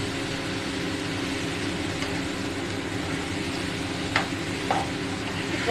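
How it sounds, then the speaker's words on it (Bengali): Taro leaves frying in oil with prawns give a steady, dense, close sizzle throughout, with a couple of faint spoon taps near the end. "তেল উঠে গেছে কচু শাক হয়ে যাচ্ছে"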